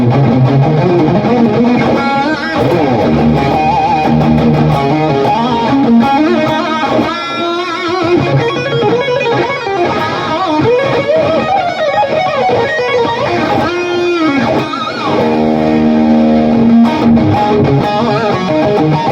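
Heavily overdriven electric guitar, a Gibson Les Paul Studio on its Dirty Fingers bridge pickup, playing chords and riffs, thick and saturated with a bright, biting edge, loud and continuous with no voices.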